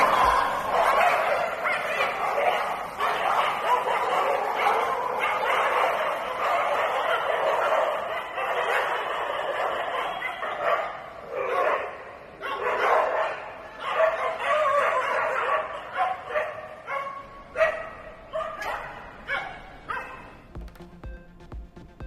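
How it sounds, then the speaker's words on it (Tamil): Dogs barking in a busy terminal at Chennai airport, with many sharp, overlapping barks and yelps that come thick and continuous, then break into more spaced, separate bursts near the end. "சென்னை விமான நிலையத்தில் நாய்களின் அட்டகாசத்தால் கதிகலங்கும் பயணிகள்."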